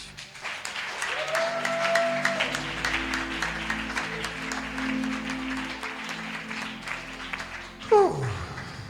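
A church congregation applauds and cheers for the Lord Jesus on the third day of a world gospel festival, steady dense clapping with crowd voices, a sustained sung or shouted note early on and a louder burst near the end.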